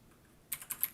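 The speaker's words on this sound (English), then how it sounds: "I spend a majority of my day typing on my keyboard" Computer keyboard typing: a short run of about five crisp, close key clicks after a half-second of near silence, loud and clear with no voices.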